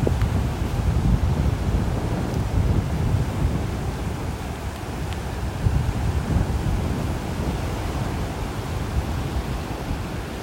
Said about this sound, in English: You hear that wind blowing?